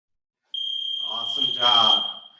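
A workout interval timer beeps with a steady high electronic tone for about a second and a half, loud and close, as an instructor speaks over it.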